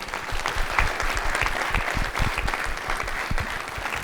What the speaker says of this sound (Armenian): բարձր ծափարենք մեր չեմպիոններին